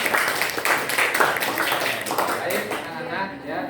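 Classroom students clap together after a good answer, a dense burst of applause lasting a few seconds and fading toward the end, with some voices mixed in.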